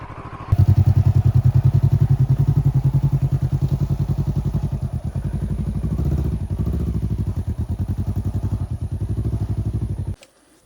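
A motorcycle climbs a steep, slippery mountain road to the Doi Mae U Kho sunflower fields, its engine labouring loud and steady with a rapid pulsing chug that fades out near the end.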